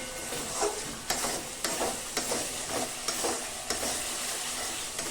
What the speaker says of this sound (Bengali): মশলার সাথে এটাকে কষিয়ে নেব।